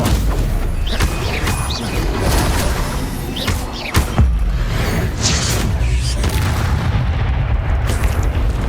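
Blasting Confringo spell explosions in the Hogwarts Legacy game, with booming impacts and a sharp thud near four seconds over a dense, continuous layer of combat noise.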